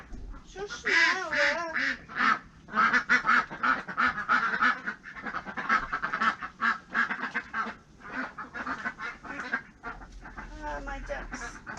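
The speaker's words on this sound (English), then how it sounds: "My ducks are calling." Several pet ducks quack and call insistently, close by and loud, in a dense, overlapping chatter of honking calls that runs for around ten seconds with little pause.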